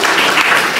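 A brief, loud burst of dense audience applause at a talk on Scientology and critical journalism, a continuous wash of many hands clapping with no pauses.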